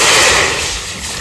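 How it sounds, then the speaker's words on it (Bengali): Water poured into a pot of finely chopped tender bottle gourd set to boil, a loud close rushing splash lasting about a second, no talk. "এবার একটু জল দিয়ে একটু সিদ্ধ করে নেব।"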